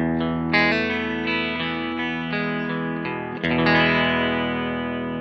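Clean electric guitar played in stereo through a Vox AC30 and a 1966 Fender Twin Reverb tube amp, picked chords and notes ringing out with long sustain, close and alone.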